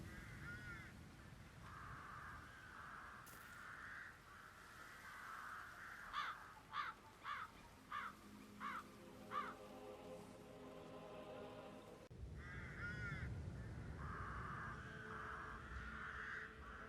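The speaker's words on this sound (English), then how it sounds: "I need those birds gone." Crows in the Dartmoor level of the Hitman 3 video game caw in a run of six loud, evenly spaced calls over a steady outdoor ambience, with softer bird noise before and after.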